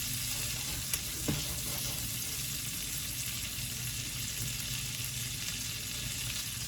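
Squid pieces for a snack fry in a pan, giving a steady, even sizzle with faint clicks of handling and no voices.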